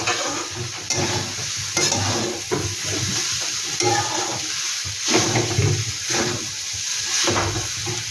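Maggi noodles being stirred in a pan, a steady close rustle of scraping and sloshing with a bubbling, sizzling wash underneath and periodic louder strokes, no voices.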